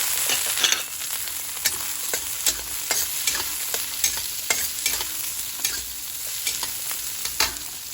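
Dried milkfish (daing na bangus) with vegetables and onion frying in a pan, a bright steady sizzle broken by repeated scraping stirs every half second or so, close and without speech.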